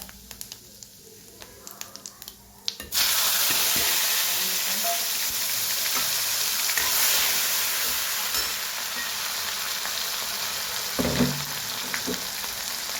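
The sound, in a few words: cumin and asafoetida sizzling in hot oil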